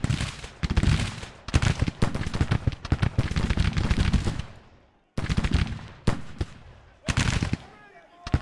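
Musket volleys and artillery fire in the Grand Tactician Civil War strategy game, with repeated loud crackling bursts broken by short pauses and a voice talking over the battle.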